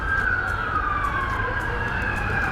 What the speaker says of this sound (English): that's a couple of police cars going down International Drive.